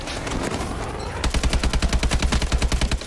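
Rapid automatic gunfire in the Call of Duty: Advanced Warfare video game, a loud, steady burst of evenly spaced shots that follows a stretch of dense background noise.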